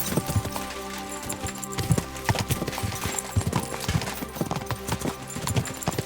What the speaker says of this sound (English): What kind of horse is that? It flew like the wind.